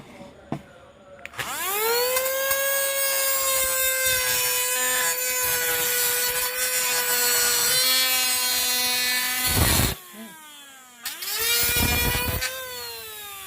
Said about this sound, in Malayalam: നമ്മളിപ്പോൾ വലിയ കട്ടർ വീലാണ് ഇട്ടിരിക്കുന്നത്